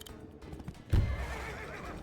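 A horse neighs in the strategy video game Wargroove 2, a loud, close whinny that rises suddenly and trails off under a soft game backdrop, with no talk.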